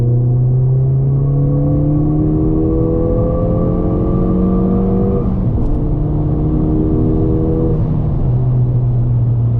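A modified Ford Fiesta ST3 Mountune engine revs up loudly through the gears, pitch climbing steadily, a brief dip at a gear change, then climbing again; heard from inside.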